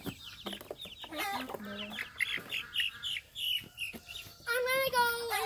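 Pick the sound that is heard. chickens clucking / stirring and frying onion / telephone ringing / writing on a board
chickens clucking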